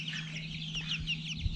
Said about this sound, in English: What you're seeing here is a buff Orpington rooster and a golden comet hen that is just walking behind it now.